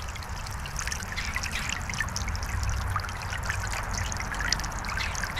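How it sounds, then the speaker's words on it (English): A POPOSOAP 70W solar bird bath fountain nozzle sprays water in a continuous nearby patter and trickle that holds steady throughout with no voices. "so I adjusted the nozzle a little so it's not spraying as high."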